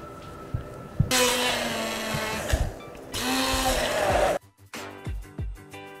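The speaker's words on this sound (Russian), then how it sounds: "И взбиваем блендером до однородного состояния." A kitchen blender whisks a sauce of sugar, wine vinegar, Dijon mustard and sunflower oil, running in two loud buzzing bursts with brief pauses, then stopping to leave quieter clatter.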